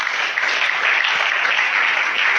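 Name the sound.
congregation applauding in church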